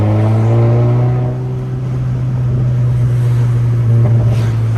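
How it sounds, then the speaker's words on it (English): A Honda Civic engine hums steadily at close range, its revs shifting as the driver downshifts unnecessarily, with a continuous low drone and a slight dip partway through, no voices over it. "I love downshifting unnecessarily."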